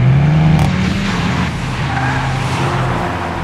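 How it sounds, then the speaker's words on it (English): A Skoda Octavia RS230 with its 2-liter TSI 230-horsepower engine drives hard on a racetrack, its loud, steady engine drone rising in pitch alongside tire noise, close and continuous with no talking. "Skoda Octavia RS230 has a really cool engine, 2-liter TSI, 230 horsepower"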